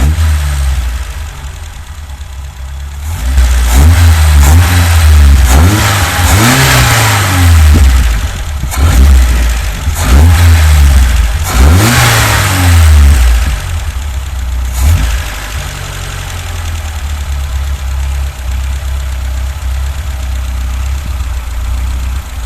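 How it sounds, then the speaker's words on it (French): A carburetted car engine with a Weber carburettor idles, then is revved several times in sharp bursts that rise and fall before settling back to a steady idle of about 900 rpm. "je vais mettre quelques coups de gaz pour m'assurer que j'ai une accélération bien franche et sans à-coups"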